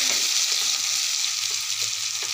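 Onions frying in oil in a pan for shol fish bhuna, a steady bright sizzle filling the short clip with a few faint clicks underneath and no talk.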